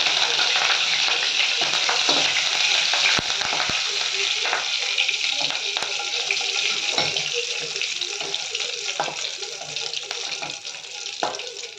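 Poha mixture frying in hot oil, a steady dense sizzle with occasional stirring scrapes throughout, close and continuous.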